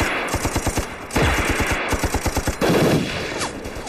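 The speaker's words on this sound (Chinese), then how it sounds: "也许我们会死，但一定要炸掉鬼子的重机枪。" A heavy machine gun fires in a wartime battle scene, delivering steady rapid bursts of loud, close shots with brief pauses between volleys and no speech over them.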